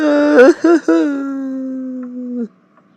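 A person whimpers and cries in a comedy film, giving a few choked sobs and then a long, drawn-out wailing moan that cuts off sharply, loud and close, alone.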